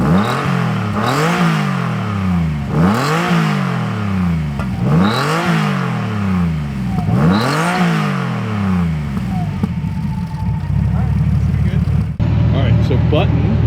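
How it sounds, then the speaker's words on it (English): A TVR Tuscan Speed Six engine revs repeatedly, each blip rising and falling in a rhythmic series of loud, close throttle sweeps, then settles into a steady rumble and deeper drone as the car pulls away. "Here's some of the sounds of the car and take it for a drive"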